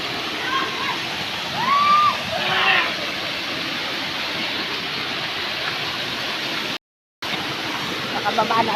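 A waterfall at a scenic nature spot roars with a steady, full wash of falling water, with faint voices here and there and a brief cut in the sound.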